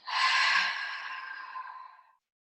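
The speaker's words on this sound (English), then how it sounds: "open your mouth and exhale fully." A full, forceful exhale through an open mouth after a deep clearing breath, one long breathy whoosh of about two seconds, close and loud, that fades steadily with nothing else around it.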